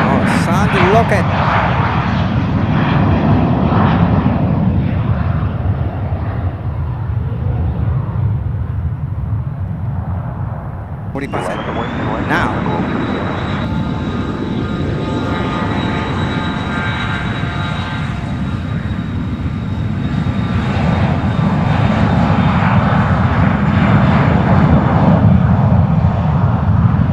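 Airplanes departing runway 10L at Fort Lauderdale airport produce a sustained loud engine roar, with a sharp break midway where a second aircraft's high whine and rumble take over, staying steady to the end.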